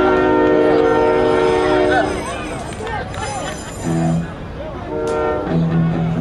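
A sustained train horn blares with steady harmonic tones at a Fourth of July festival in Newburgh, cutting out and returning in shorter blasts, with a voice talking over it.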